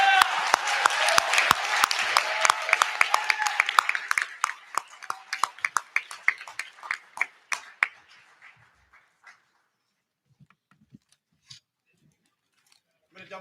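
Audience applause for the two finalists at a national intercollegiate ethics bowl championship, loud and dense at first, then thinning into scattered claps and fading out to near silence.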